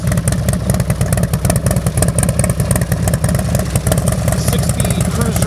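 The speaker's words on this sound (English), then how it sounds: "Check out this Harley-Davidson pipe." A 2016 Harley-Davidson Low Rider S 117 motorcycle engine throbs loudly and continuously nearby, with a pulsing, lumpy rhythm and no clear breaks, sounding like idle or light revving.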